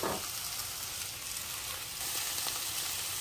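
Onions and peppers for shrimp fajitas sizzle steadily in a single pan, a dense, continuous frying hiss that stays loud and close throughout with no talking.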